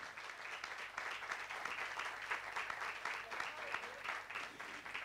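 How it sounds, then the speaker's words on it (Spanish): An audience at a book presentation claps steadily for Fran, a dense, moderately distant round of applause that lasts throughout. "os voy a pedir, si no os importa, un aplauso para Fran"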